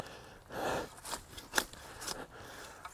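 A trenching shovel slicing through lantana roots in soil makes a few close crunching, scraping cuts, with one sharp snap in the middle and fainter scrapes after, no voices.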